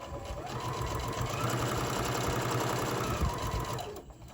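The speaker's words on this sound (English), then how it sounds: "I'm going to go ahead and stick this on my machine. Sew up the opening." A sewing machine stitches closed the opening of a fabric Santa sack, giving a close, steady mechanical hum that runs for a few seconds and then slows to a stop.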